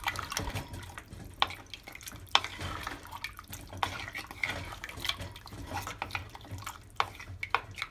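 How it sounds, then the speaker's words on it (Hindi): Water is poured into a pot of mutton curry before the pressure cooker is closed, with splashing, dripping and a few metal clinks of the pot and spoon, moderately close and fairly quiet. "फिर हम 2 cups ऑफ वाटर डालेंगे"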